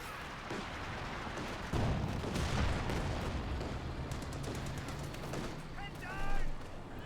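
A World War II strategy game battle with British armour, a Comet tank and a Panther: artillery and gunfire thud in repeated bursts over a steady roar of combat, while a commentator talks throughout.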